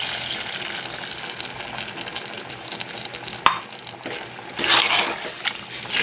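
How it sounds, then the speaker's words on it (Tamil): Coconut milk is poured into a pot of homemade chicken gravy, making soft liquid splashing and sloshing with a sharp clink partway through and a louder gush of pouring near the end. "இதில் தேங்காய் பால் ஊற்றிக்கலாம்."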